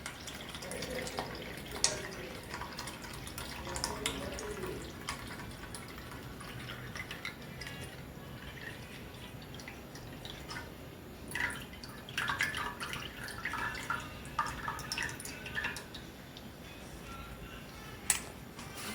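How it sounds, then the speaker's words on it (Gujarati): Water drains off soaked lentils for dal vada in a home kitchen, a faint trickle with scattered drips and splashes that come and go irregularly, fairly quiet throughout. "બસ જો બધું પાણી આપણે નિતારી દઈશું"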